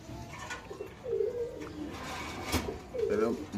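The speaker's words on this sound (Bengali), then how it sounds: "পিছনে এক পিস কবুতর আছে" Caged pigeons at a pigeon market coo in low rolling phrases, near and fairly loud, rising again toward the end while people speak in the background.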